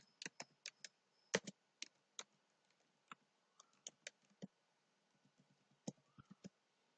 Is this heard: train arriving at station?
no